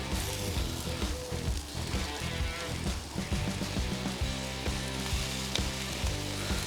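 Lamb chops sizzling over high heat on a braai, a steady loud crackling hiss with frequent fat pops, close and continuous throughout without talk.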